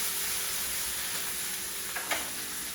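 Beef short ribs searing in hot grease in a pan give a steady, even sizzle with a couple of brief louder spits near the end. No talking.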